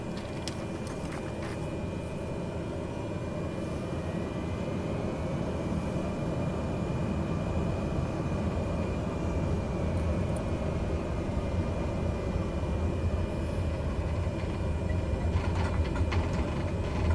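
Turboprop aircraft engine running at high idle before takeoff in a flight simulator, a steady broad drone with a whining tone, holding level and continuous throughout, with no voices.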